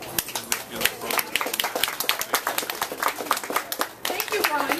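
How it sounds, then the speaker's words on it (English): Audience applause at the Stow Lake Boathouse farewell event, a dense patter of many hands clapping steadily for about five seconds with a brief dip near the end. "So I'd like to applaud all of you in the program."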